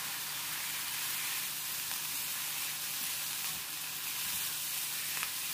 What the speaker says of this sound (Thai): ผัดให้ดอกหอมโดนความร้อนทั่วๆจนเริ่มสุกก็ปรุงรสด้วยน้ำมันหอย2ช้อนโต๊ะ